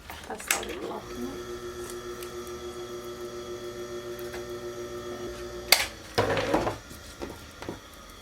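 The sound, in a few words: overlock sewing machine stitching a raglan sleeve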